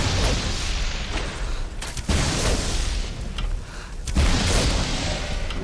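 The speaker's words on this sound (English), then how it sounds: "creates an area of effect lightning explosion on impact" Heavy booming lightning explosions from a shock arrow in Skyrim, with a crackling, rumbling tail, about three loud bursts in a row, close and powerful.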